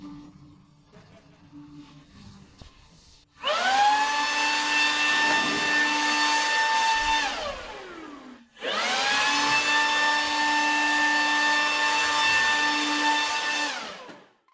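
A loud, steady motor whine with strong harmonics runs for several seconds, winds down, then starts again and runs steadily until cut off.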